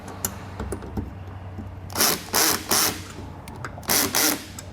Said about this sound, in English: we're just going to use a 10mm wrench to hold the nut on the back side and our Phillips to snug it down